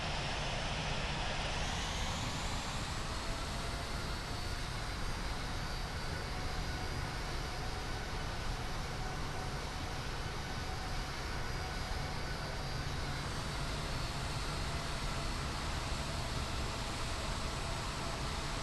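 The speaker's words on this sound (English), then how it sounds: "Air Canada 257, taxiing to runway 25." Steady jet-engine hum and broadband whine from an airliner taxiing toward the runway in the Infinite Flight simulator, with no other sounds and a constant, even level throughout.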